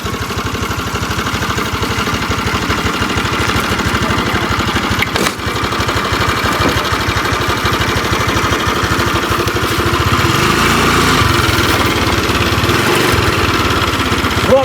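A Honda Activa scooter engine runs steadily and loudly up close, a buzzing idle that holds for the whole stretch before a slight rise in pitch near the end.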